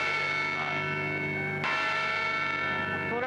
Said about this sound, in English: ring this old famous bell